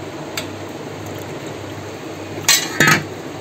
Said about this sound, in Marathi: त्यामध्ये थोडंसं पाणी टाकूया बघा